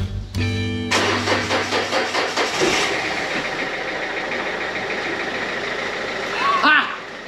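A Dacia 1100 car engine cranks briefly, catches and settles into a steady, rumbling idle close by, with a voice speaking near the end.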